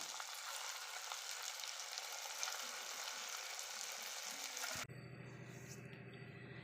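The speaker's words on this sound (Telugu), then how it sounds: "అలాగే మిగతా పిండి ఉంది కదా ఆ పిండిని కూడా ఇలాగా చక్కగా పునుకులు వేసేసుకుందాము" Batter fritters made from leftover idli batter frying in hot oil, a steady dense sizzle and crackle that runs alone for several seconds before cutting abruptly to a quieter, different background.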